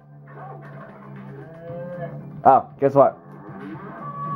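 A cow in the video game Earthworm Jim lets out a loud, deep moo in three quick bursts, one after another. A player speaks briefly before and after the mooing.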